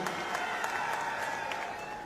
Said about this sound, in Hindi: उनके लिए भी जोरदार तालियों से मैं गड़गड़ाहट से स्वागत चाहता हूं